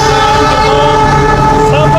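A CC206 diesel locomotive hauls a train past at close range, its engine roar and wheel rumble loud and steady throughout, with a faint horn-like tone near the end and people speaking nearby.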